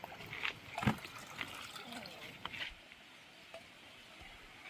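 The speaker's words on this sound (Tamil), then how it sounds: "முதல்ல வந்து தண்ணியை விட்டுட்டு தக்காளி பழத்தை எல்லாத்தையுமே வந்து நாங்கள் கழுவி எடுப்போம்" Water runs and splashes in short bursts while tomatoes are washed in a home kitchen, with occasional clatter, fading to a quieter trickle.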